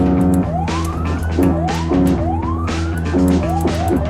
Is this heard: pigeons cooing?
no